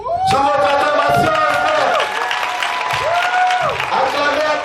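Guests at a 20th wedding anniversary celebration cheer and clap together, a loud, lively burst of voices and applause running for several seconds, with shouted cheers rising and falling over the clapping.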